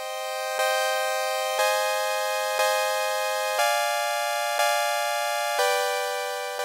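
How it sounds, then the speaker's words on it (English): Sawtooth synthesizer in Ableton Live plays a sustained, buzzy chord of bright harmonics, changing about once per second in seven even steps with sharp attacks. It sounds loud and close, with no voices. "Here I have a sawtooth synthesizer"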